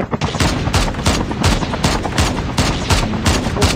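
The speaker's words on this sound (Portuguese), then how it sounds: "é tiro de sniper" Rapid bursts of gunfire crack repeatedly in a Call of Duty Mobile battle royale match, a steady string of sharp, loud shots at an even rhythm lasting nearly four seconds.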